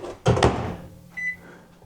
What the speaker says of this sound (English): So we're going to put this in the microwave